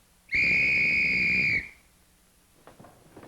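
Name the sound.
someone blowing a whistle in the morning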